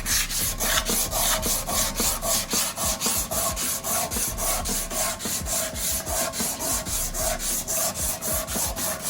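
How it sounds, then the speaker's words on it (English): Hand sanding a motorcycle gas tank with 120-grit sandpaper: steady rhythmic rasping strokes, close and moderately loud, repeating evenly with no talking. "we're gonna take our 120 and just keep working the shape of the tank. Letting the sandpaper do the work."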